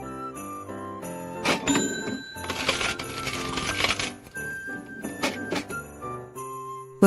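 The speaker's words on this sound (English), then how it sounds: "Look at the cash register." Coins and metal clatter and jingle repeatedly in a busy store at closing time during the Christmas season, with bright ringing tones over a continuous cluttered background.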